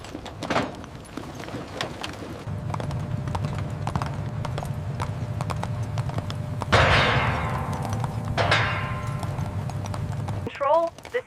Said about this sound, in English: Guide the horses out slowly.